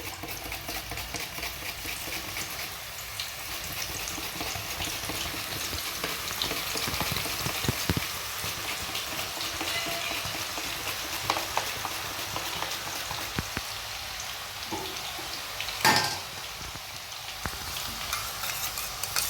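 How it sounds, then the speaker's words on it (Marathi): Raw banana chips sizzle and crackle steadily in medium-hot oil, a constant hiss with occasional sharper pops and stirring sounds, no talking. "पण बॅच आपल्याला याच्यामध्ये फ्राय करून घ्यायची आहे. तेल मिडियमच असू द्यायला"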